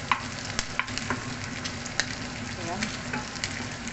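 Pork and vegetables stir-frying in a hot pan, a steady dense sizzle with scattered sharp crackles and pops throughout, close and continuous, with a brief spoken word over it.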